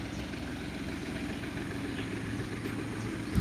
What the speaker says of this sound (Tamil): உழவு வேலையெல்லாம் முடிச்சு கொண்டு டிராக்டர்கள் போய் கொண்டிருக்கு பார்த்தீங்களா